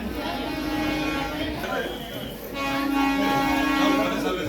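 A local train running, a steady rumble of carriages under people talking and chatter inside the coach, with a brief horn-like tone partway through.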